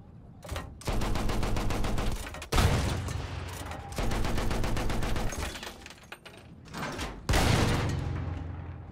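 Battlefield 1 gunfire in a let's play: long bursts of rapid automatic fire, near and loud, broken by short pauses and a few sharp single reports.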